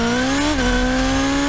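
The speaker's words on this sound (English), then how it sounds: "But this season, the engine sounds sound great." A car engine in the Rocket League video game holds a steady tonal hum with a brief pitch dip partway through, loud and alone with no talking.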